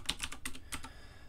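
Typing on a computer keyboard: a quick run of about six crisp key clicks in a short burst, close and clear with no talking.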